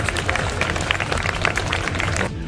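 A crowd gathered near Heathrow airport claps to welcome a departing jumbo jet, a dense, steady patter of many hands outdoors, fairly loud and continuous before cutting off near the end.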